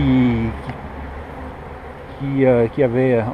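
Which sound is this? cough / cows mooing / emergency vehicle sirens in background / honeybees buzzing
honeybees buzzing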